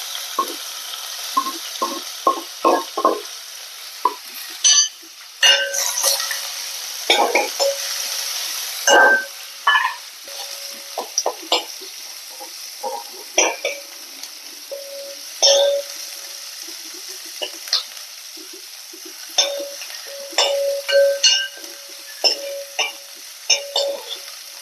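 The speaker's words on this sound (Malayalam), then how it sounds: "സവാള ഇട്ട് കൊടുക്കുക." Onion fries in a pan with green chillies, ginger, garlic and curry leaves, giving a light crackle broken by repeated spatula scrapes and clinks at an uneven rhythm, up close.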